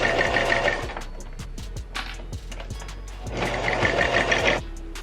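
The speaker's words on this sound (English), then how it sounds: "So you're gonna sew across that bottom part and then across the top part." A sewing machine stitches across a jeans seam at the waistband, running in two steady bursts of rapid mechanical whirring separated by a short pause, close and fairly loud with no talking.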